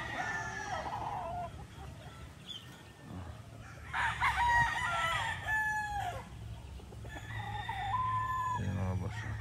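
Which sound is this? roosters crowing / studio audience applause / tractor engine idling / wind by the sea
roosters crowing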